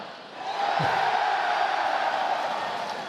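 A crowd at a 2017 opening ceremony cheers in a sustained, fairly distant roar lasting several seconds, a broad wash of voices rising quickly and holding steady.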